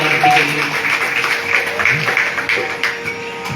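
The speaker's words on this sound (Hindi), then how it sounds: "पवन कुमार जी, इनके लिए जोरदार तालियां दें" Applause at a village Shrimad Bhagavat Katha gathering for the host Pawan Kumar: a steady wash of many hands clapping at moderate loudness, with voices faintly underneath.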